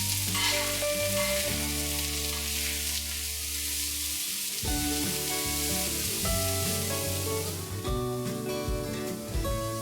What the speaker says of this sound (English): we're going to saute 3 finely chopped onions till they are nice